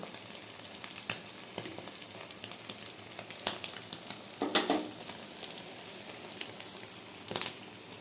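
Appam batter frying in ghee in a pan for a Karthigai Deepam recipe, a steady close sizzle with faint crackles and a few brief louder pops, no voices.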